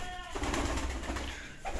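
Village pigeons kept in Bangladesh coo softly while being fed rice, with a few low, muffled coos heard at a moderate distance.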